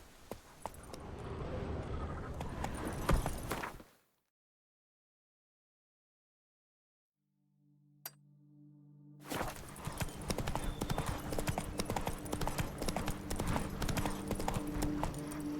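Roach the horse galloping in The Witcher 3: Blood and Wine, rapid hoof clip-clop heard up close, cut off by a long silence, then resuming steadily.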